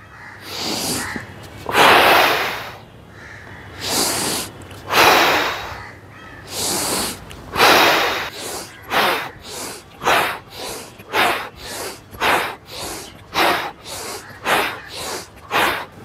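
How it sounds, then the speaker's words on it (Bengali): A person does a breathing exercise, inhaling through the nose and exhaling through the mouth, with loud close breaths that start slow and long, then speed up into a rapid, regular series of short sniffs and puffs. "নাক দিয়ে ইনহেল করলেন এবং মুখ দিয়ে আপনি এক্সহেল করবেন।"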